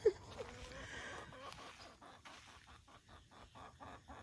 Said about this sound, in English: Y'all look at this chicken.